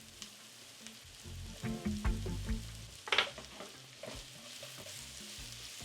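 Garlic and ginger tipped into a pan of browning onions sizzle close up, with a few stirring scrapes and clatters over a low, steady frying hiss and no voices.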